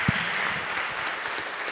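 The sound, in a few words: applause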